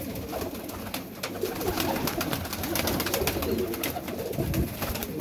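Rampuri pigeons coo steadily in a loft, their low rolling calls overlapping in a continuous murmur across the whole stretch, with occasional short rustles and clicks close by.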